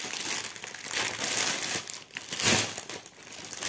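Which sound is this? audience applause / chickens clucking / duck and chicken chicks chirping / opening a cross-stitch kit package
opening a cross-stitch kit package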